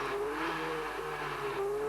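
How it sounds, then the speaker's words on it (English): A production racing car engine drones steadily nearby, its pitch shifting slightly as it brakes hard for a hairpin, with a faint tire squeal underneath, at a 1988 championship race. "Hard onto the brakes for the hairpin."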